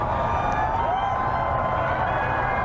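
A large outdoor crowd cheers and whoops as a total solar eclipse darkens the sky, a steady dense roar of many voices with scattered high shouts.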